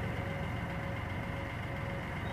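A Chevrolet Beat with its stock exhaust idles steadily close by, giving a continuous low engine drone with a faint whine held through the whole stretch and no talking.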